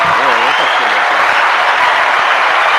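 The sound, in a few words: applause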